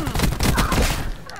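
A quick volley of loud, close gunshots in a shooting video game, crackling in a dense burst that fades at the end.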